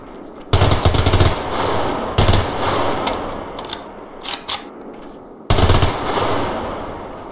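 Rifle fire from a G3 and AK hybrid in the video game Survarium comes in loud close bursts of rapid automatic shots, with a few single clicks and softer mechanical sounds between them.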